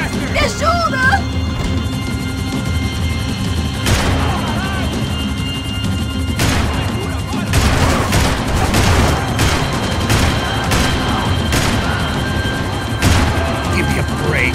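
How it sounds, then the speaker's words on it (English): Gunfire in the video game Max Payne 3 during a chase, with scattered loud shots and bursts over a constant helicopter-like rotor drone, mixed with urgent shouted voices. "Shoot that bastard!"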